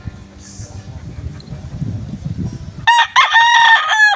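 Low background rumble and faint voices, then a loud, close broodcock rooster crow breaks in and carries on to the end.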